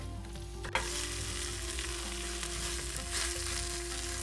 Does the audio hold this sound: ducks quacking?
no